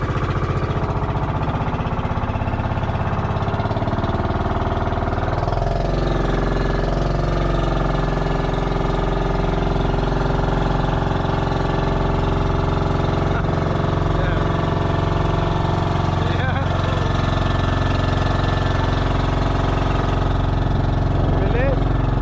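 A boat engine drones loudly and steadily throughout, a continuous low mechanical hum, while people talk over it.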